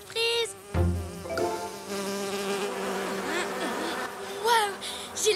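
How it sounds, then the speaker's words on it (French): Cartoon flies buzz close and loud, their droning hum wavering up and down continuously across the scene, with brief cartoon voice sounds near the start and end. "j'ai l'impression que les mouches aiment bien le jus de Marula"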